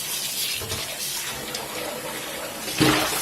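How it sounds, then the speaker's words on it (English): Painted cloth being rinsed under hot running water, a close, continuous gush of tap water with a brief splashing surge near the end. "So that was the first rinse."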